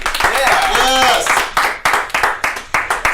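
A comedy-night audience applauds comedian Andrew Tavin, with scattered claps over cheering voices that thin into a few sparse claps.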